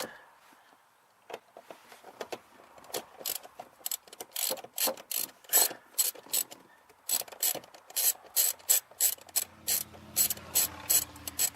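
Ratchet wrench loosening bolts on the steering shaft of a 1996 Ford Mustang, a long run of quick, loud clicking bursts in a steady back-and-forth rhythm, close up and with no talking.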